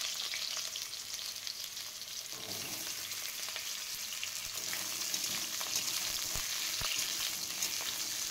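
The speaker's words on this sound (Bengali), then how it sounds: "ওই তেলেই ভেজে নেব কাঁচকলাগুলো" Sliced green bananas frying in oil left over from lentil fritters, a continuous close sizzle with crackling spits, with occasional soft knocks of stirring underneath and no voices.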